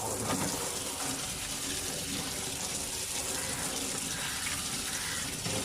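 Steady, dense rush of running water while freshly picked dates are washed, a continuous gushing flow with no clear pauses, close and fairly loud.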